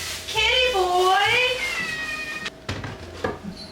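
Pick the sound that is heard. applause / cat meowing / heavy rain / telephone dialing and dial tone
cat meowing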